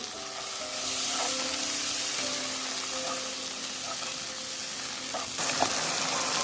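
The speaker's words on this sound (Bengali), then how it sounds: "সামান্য পরিমাণে পানি দিয়ে কষিয়ে নিচ্ছি।" A ground spice paste with turmeric, chili powder and a little water sizzles steadily in a pan while being stirred for quail egg biryani, a loud, continuous frying hiss with occasional scraping.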